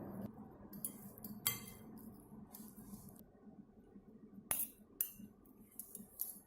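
Utensils clink against a bowl while tossing a watermelon and quinoa salad with dressing, producing irregular sharp taps and scrapes with brief pauses and quieter soft mixing sounds between them.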